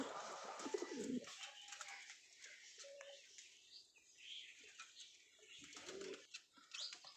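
Giribaz pigeons, a pair of tumbler-type birds, coo in soft low bursts, close by and fairly quiet, with intermittent murmuring calls spread across the stretch and no talking over them.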